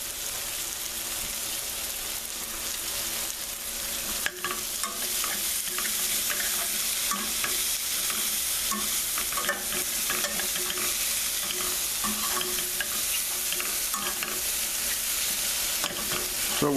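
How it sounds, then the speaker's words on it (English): Fresh garlic, herbs and orange zest sautéing in a pan for veal stew Marengo, a steady bright sizzle with occasional stirring scrapes, close and continuous without talk. "So we'll saute this moderately."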